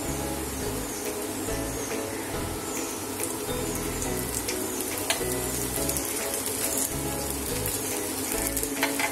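A mixed dal dosa sizzles on a hot pan as oil is poured around its edges, a steady close crackling fry with small pops throughout and no talking.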